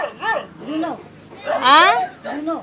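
Several sharp, close barks and yips from dogs, uneven and excited, separated by brief pauses, with one longer whining bark in the middle.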